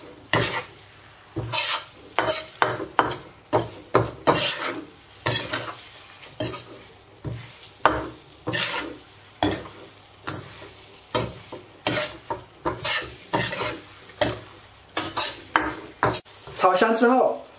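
Squid tentacles being stir-fried in a wok: rhythmic, repeated scraping tosses of a spatula against metal over a continuous sizzle, loud and close, with a ringing clink at the end.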